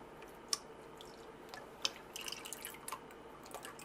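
Lye mixed with beer is poured slowly into soap-making oils, giving faint, sparse drips and soft liquid splashes in an otherwise quiet room.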